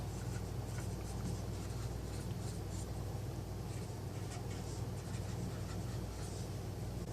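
Handwriting during a biology lecture, heard as a steady scratchy rustle over constant background hiss, continuing throughout with no talking.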